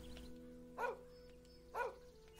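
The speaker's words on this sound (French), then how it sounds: "Le chien." A dog in the video game Infinite Undiscovery barks twice, short, evenly spaced yelps over a quiet, humming background.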